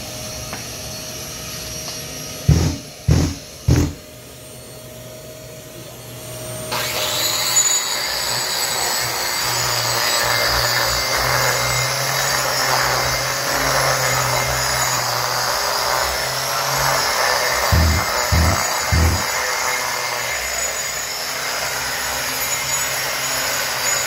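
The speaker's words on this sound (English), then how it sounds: "we're just gonna edge it with our hand grinder and a cup wheel hooked up to our vac system" Hand grinder fitted with a cup wheel and hooked to a vacuum system, edging concrete beside a wall: a loud steady whine and roar sustained for most of the stretch, preceded by a few sharp knocks, with no talk.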